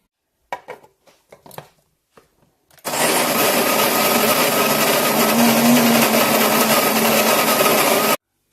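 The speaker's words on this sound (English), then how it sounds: "I'll get these beans in the grinder" Kenyan coffee beans rattle and clatter briefly, then a coffee grinder starts and runs loud and steady for about five seconds before cutting off abruptly.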